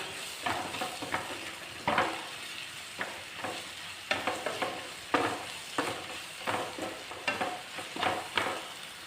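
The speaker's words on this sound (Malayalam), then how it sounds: "ഇനി അര ടീസ്പൂൺ മഞ്ഞൾപ്പൊടി ഒന്നര ടീസ്പൂൺ മല്ലിപ്പൊടി ഇത്രയും ചേർത്ത് നന്നായിട്ടൊന്ന് വഴറ്റിയെടുക്കണം" Turmeric and coriander powder are sautéed in a hot pan for a squid roast, with a steady sizzle under repeated, rhythmic spatula strokes scraping and stirring close up; no voices.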